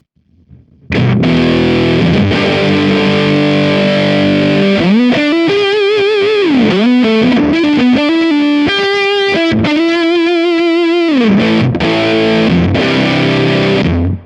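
An electric guitar runs through a Kemper Profiling Amp distortion effect, thick sustained chords giving way to bending, vibrato-laden lead lines, played loud and alone without talk.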